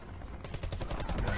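A light machine gun fires rapid bursts in Black Ops 4 multiplayer, a fast rattling stream of shots that starts after a brief pause and stays moderately loud.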